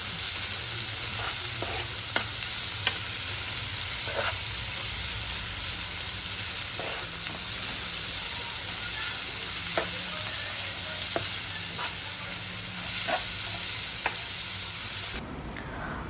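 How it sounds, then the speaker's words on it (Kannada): Onion, salt and grated coconut sauté in a hot pan with a dense, continuous sizzle, punctuated by light scraping strokes of a spatula, close and steady until an abrupt drop at the end. "ನೀರುಳ್ಳಿ, ಉಪ್ಪು ಆ್ಯಂಡ್ ಕೊಬ್ಬರಿ ಹಾಕಿ we will just sort this"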